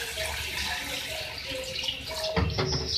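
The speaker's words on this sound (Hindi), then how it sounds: "अब मैं इसमें यखनी का पानी ऐड करूँगी" Chicken stock (yakhni) poured into a pot of Hyderabadi Sindhi chicken pulao, a steady close splashing pour of liquid that runs for a few seconds, then a few sharper clinks and splashes near the end.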